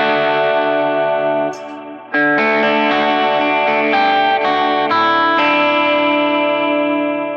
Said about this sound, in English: As is, it should be a chorus sound.